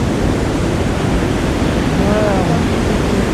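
Loud, continuous roar of rushing river water near a bridge in Kashmir's Neelam Valley, a dense steady wash close by with a faint voice barely audible underneath.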